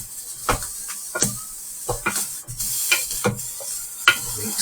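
Beef stew ingredients being stirred and mixed in a pot, with repeated scraping and clinking strokes at an irregular rhythm, close and fairly loud, no talking.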